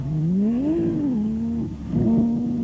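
A supercharged Honda-engined hillclimb car at Collingrove, South Australia, in 1998 sings close by, its engine pitch rising, dipping as it lifts off, then climbing again as it pulls hard.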